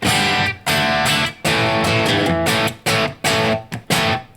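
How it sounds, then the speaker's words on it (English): Electric guitar played straight through an amp's plexi channel, a loud crunchy distorted riff of ringing chords broken by short choppy stops, with no voices. "Just playing straight through the amp on the plexi channel right now."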